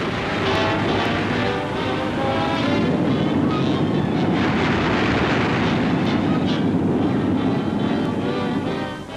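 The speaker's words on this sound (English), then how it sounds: "Bombs fall close." Bombs fall and explode near warships during a WWII naval air attack, heard as a dense, continuous roar of blasts and rumbling without distinct breaks.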